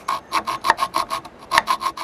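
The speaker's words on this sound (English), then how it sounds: "Since I don't have a 12mm drill, there's a rather untidy series of holes. I just have to file the holes smooth." Hand file smoothing a rough series of drilled holes in a tube held in a vise, a crisp rhythmic rasp of about a dozen even back-and-forth strokes, close and loud with nothing else audible.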